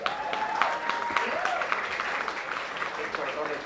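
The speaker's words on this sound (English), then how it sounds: "Can we hear a round of applause for her?" A crowd applauds at a Malayali wedding Haldi event in Mumbai, steady clapping lasting a few seconds while a voice speaks over it.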